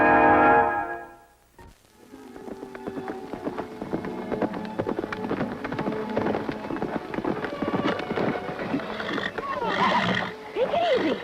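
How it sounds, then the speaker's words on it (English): Fury, a great wild horse, gives a loud, shrill neigh at the start, followed by hoofbeats and excited whinnies over a busy outdoor mix with voices talking. "a great wild horse and the only person on earth who can ride him."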